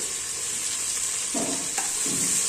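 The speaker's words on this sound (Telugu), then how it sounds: "ఉల్లిపాయలు మంచిగా ఎర్రగా ఫ్రై అవ్వాలి మంచిగా ఎర్రగా ఫ్రై అయితే బాగుంటుందండి" Onions frying in hot oil with cinnamon, cloves, cardamom, bay leaves and shahjeera, a dense continuous sizzle up close with a couple of brief stirring scrapes.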